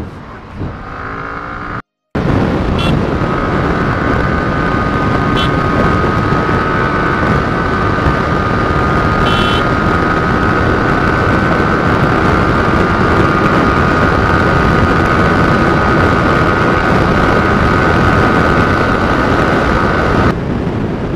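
A motorcycle engine drones steadily and loudly while riding toward a highway, mixed with constant wind rush; after a brief cut near the start, the sound holds unbroken for the rest of the clip.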